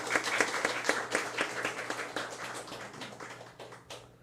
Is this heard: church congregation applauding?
yes